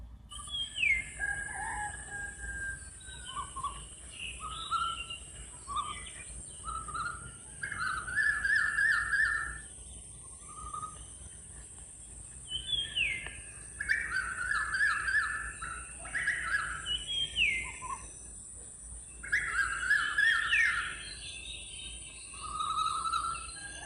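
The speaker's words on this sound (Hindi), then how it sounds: "पेड़ पर पक्षियों के चहचहाने की आवाज़ आ रही है" Birds call and chirp from trees at dawn, with repeated melodic phrases and a rooster-like crow, moderately near, over a steady high hiss and no talk.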